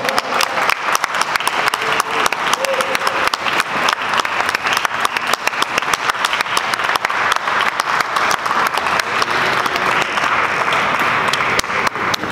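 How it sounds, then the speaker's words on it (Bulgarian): Loud, sustained applause from a large audience at the Sofia Motor Show 2015, dense clapping filling the whole stretch without pause. "Моля за вашите аплодисменти."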